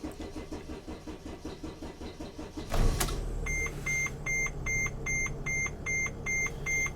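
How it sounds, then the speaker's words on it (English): A Dodge Sprinter van with a turbo underboost fault cranks and fires up with a short loud burst. Repeated electronic warning chimes then beep steadily over the running engine. "now I'm gonna start the engine"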